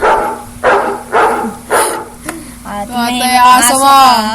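A dog barks four times in a steady rhythm, close by, followed by a higher whining yelp; a faint tone hums underneath.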